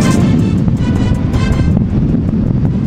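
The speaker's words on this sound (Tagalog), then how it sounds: "Malakas pa rin ang hangin sa Batanes" Strong wind in Batanes after Typhoon Betty buffets a microphone, a continuous loud roaring rumble with gusty fluctuations and no voices.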